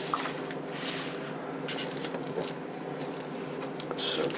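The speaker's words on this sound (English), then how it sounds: "you guys can watch me struggle putting it back into the resealable plastic bag" A resealable plastic bag holding parts of a 1/35 scale Takom T-55 AMV model kit is handled up close, crinkling and rustling in irregular bursts with small clicks and no talk.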